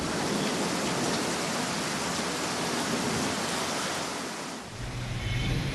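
Heavy unseasonal rain pours down on Pune streets around Swargate and Jangli Maharaj Road, where water has pooled. A dense, steady roar of rainfall runs loud and continuous throughout, easing only slightly near the end, with no voices.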